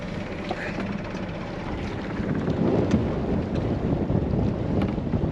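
A dive boat's engine idles while its propeller turns slowly into a westerly wind on a scallop-diving trip, giving a low, steady rumble and faint chugging, with gusts of wind buffeting the microphone throughout.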